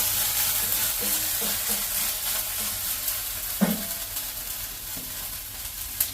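Tempering sizzling in oil for a half-kilo ridge gourd curry, a steady soft frying hiss with a few light clinks and stirring taps.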